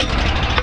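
Steady, loud, close engine rumble from a farm truck on a soybean farm, running evenly right after starting without choke, with no voices over it.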